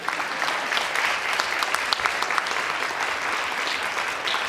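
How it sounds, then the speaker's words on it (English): An audience at a Palomar College keynote breaks into sustained applause, many hands clapping in a steady, fairly close wash of sound with no talk over it. "can we give another round of applause for that?"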